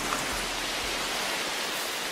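Steady rain falls in a rainforest, a dense, even hiss of countless drops on leaves, continuous and fairly loud with no other sounds standing out.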